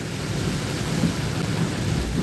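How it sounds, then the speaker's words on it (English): Heavy rain pours down in a steady dense roar with low rumbling thunder mixed in, loud and continuous throughout with no voices. "And now it is pouring like crazy."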